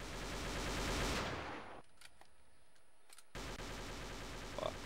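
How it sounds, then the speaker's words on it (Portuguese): In a homemade first-person shooter game, an enemy fires rapid automatic bursts. The dense rattling gunfire stops for a short gap and then starts again. "Olha, ele está metendo bala atrás de mim"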